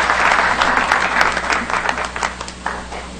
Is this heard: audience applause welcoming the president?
yes